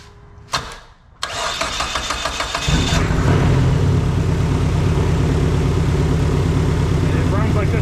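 A Dodge SRT-4 turbo four-cylinder, just fitted with new plugs and wires, cranks and fires after a couple of short bursts, then settles into a loud, steady, slightly uneven running idle close to the microphone.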